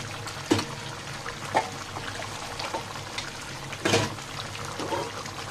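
Water is poured from a cup into a pot of simmering chicken curry with potatoes, a close splashing trickle broken by a few louder splashes over several seconds.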